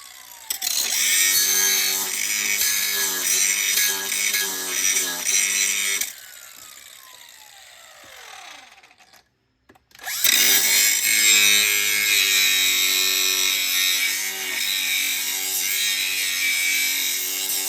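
An angle grinder works a metal differential mount for a Polaris RZR 900 diff being fitted to a Can-Am Highlifter 850, a loud harsh whine running steadily, pausing briefly to spin down, then starting again at full volume.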